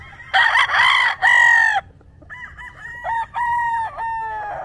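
A roundhead brood stag, a kanaway hen crossed with a Gary Gilliam roundhead with a straight comb, crows loudly and close twice in a row, each call long and harsh, with a thin low rumble beneath.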